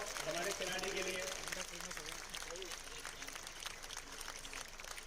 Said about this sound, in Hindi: जोरदार तालियां हमारे खिलाड़ी के लिए।